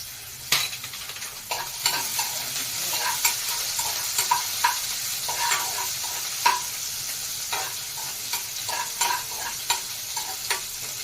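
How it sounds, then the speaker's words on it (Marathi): Chili pieces frying in hot oil with garlic, a steady close sizzle with frequent light clicks and scrapes of a spoon stirring in the pan. "मिरची तेलात अशी चांगली परतून घेऊया"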